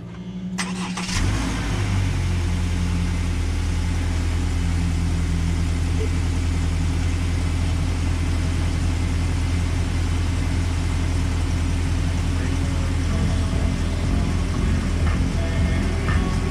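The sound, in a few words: car engine starting and idling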